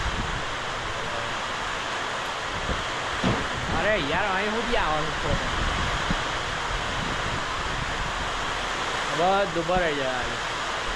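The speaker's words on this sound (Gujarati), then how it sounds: "પવને આવે છે મસ્ત વાડામાં જોવા જઈએ સાથે વરસાદ છે બહુ" Heavy rain and gusting wind outdoors beside a yard give a constant loud rushing wash. A voice talks over it in two short bursts.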